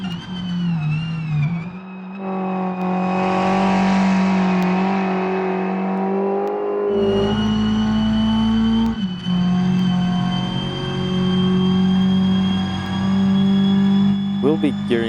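A racing engine in a racing video game on the Nordschleife drones steadily at high revs, pitch rising and dipping with gear changes, loud and close throughout the clip.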